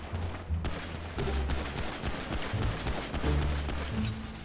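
Gunfire in GTA 5 roleplay, a string of sharp repeated shots and bursts spread across several seconds, loud and close, with no voices over them.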